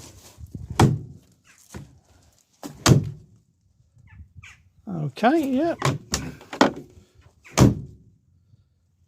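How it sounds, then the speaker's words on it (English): A Land Rover door fitted with a new striker plate shuts with three solid, close thunks spread over several seconds, separated by quiet gaps and some brief talking. "So let's see whether the door closes now or not."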